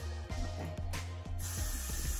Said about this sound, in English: now I'm gonna go in with my Got To Be Glue Free Spray